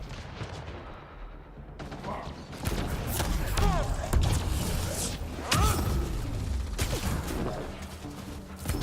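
Sniper gunfire from the Mass Effect Andromeda video game, with several sharp shot cracks and impacts scattered through the clip over a dense, noisy battle soundscape.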